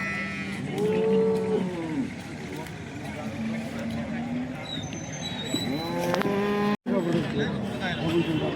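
A cow at a cattle market in Sangola moos loudly and nearby, a long call early and another later, with people talking and market noise around it.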